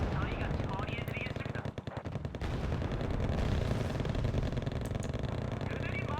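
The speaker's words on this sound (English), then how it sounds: "This is a 90mm autocannon. For as fast as that thing is firing?" Rapid, continuous bursts from a 90mm autocannon in the war game Wargame: Red Dragon, Second Korean War campaign, loud and dense throughout, mixed with engine rumble, with a voice apparently talking over it.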